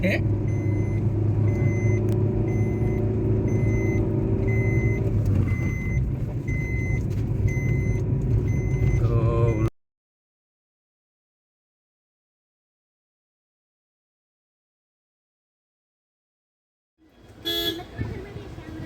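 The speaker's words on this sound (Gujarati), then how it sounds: "આજે રવિવાર છે પાછો એટલે વચ્ચે એક્ટિવા થઈ ચડી ટ્રાફિક છે." Sunday road traffic in Udaipur with scooters rumbles steadily and a car horn toots, then the noise cuts out to near silence before traffic sound briefly returns at the end.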